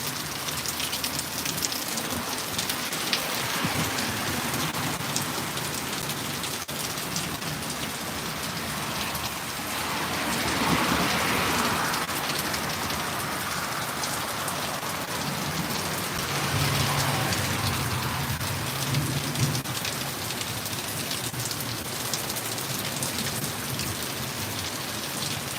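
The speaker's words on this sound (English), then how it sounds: "right now the thunder sounds somewhat far away, so that's good" A steady downpour hisses loudly during a severe storm, with faint low rumbles of distant thunder swelling softly beneath the rain.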